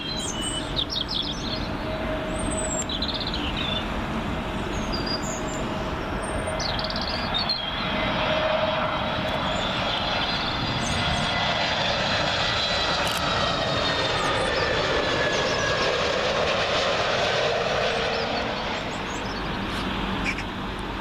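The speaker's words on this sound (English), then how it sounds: "Next one in, Iberian Airbus A320neo, in from Madrid." An Iberia Airbus A320neo arriving at Heathrow on runway 27L roars past overhead, its jet engine noise swelling and holding loud before easing, with birds chirping faintly in the background.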